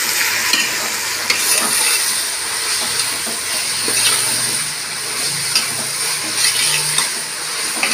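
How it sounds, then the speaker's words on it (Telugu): Vegetable biryani ingredients stirred in a pot, a steady loud hiss of sizzling with rhythmic scraping and stirring knocks, close and without talk. "ఇప్పుడు ఇవన్నీ వేసేసిన తర్వాత ఒకసారి బాగా కలిపేసుకున్నాం"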